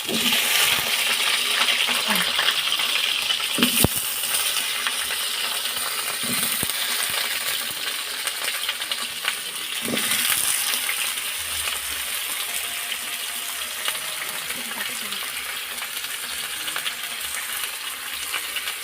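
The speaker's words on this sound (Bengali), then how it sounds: "এবার তেল দিয়ে দেবো আলু ভাজার জন্য" Steady sizzling of food frying in hot oil, a continuous crackling hiss with occasional sharp clinks of a utensil against the pan.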